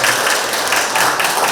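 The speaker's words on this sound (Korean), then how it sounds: "여러분 박수로 모시겠습니다" An audience at a book concert and citizens' lecture applauds to welcome a singer onto the stage, a dense, loud, continuous wash of clapping from many hands with no voices above it.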